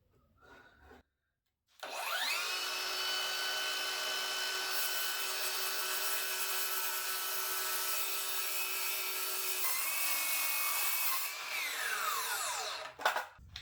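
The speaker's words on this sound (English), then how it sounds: "And we're cutting." A power saw cuts through wood for a Christmas village ladder shelf, a loud steady whine that starts after a short quiet pause, holds evenly for about ten seconds, then winds down, with no talking.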